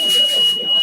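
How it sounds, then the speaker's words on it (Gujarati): VVPAT voting machine giving its vote-confirmation beep, a single loud, steady electronic tone that holds through the whole short moment, close up and alone. "પછી અહીંયા બીપ અવાજ આવશે"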